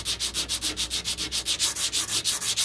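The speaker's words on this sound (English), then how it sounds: "just a quick example how fast this sands down. I mean, this is just 80 grit. I'm just barely pushing." Body filler on a car door of a 1969 Corvette C3 is sanded by hand with 80-grit sandpaper. The sound is a brisk, rhythmic scratching of quick back-and-forth strokes, close and steady, with no talking.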